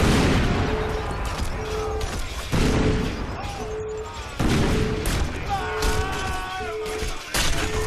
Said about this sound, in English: we're going to bombard him with grenades